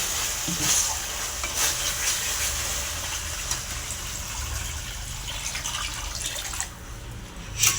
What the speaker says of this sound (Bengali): মাছের ঝালের জন্য এবার আমি জল দিয়ে দেবো